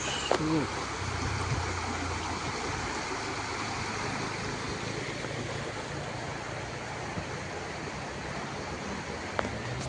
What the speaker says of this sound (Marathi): पाण्याचा फ्लो बघा तुम्ही, हळूहळू खालती जातं